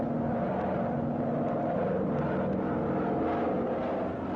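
Lockheed P-38 Lightning twin-engine fighter drones steadily at full power, a dense continuous engine roar with no break.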